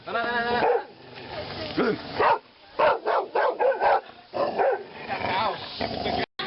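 A dog barks in short, repeated bursts close by, mixed in with people talking over it.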